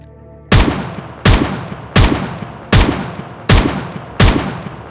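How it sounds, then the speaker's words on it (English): Rifle fire in the video game Project Zomboid, six loud, sharp gunshots evenly spaced under a second apart, each with a short decaying echo over a quiet background. "The shots from the rifle attracts more infected people inside the hospital."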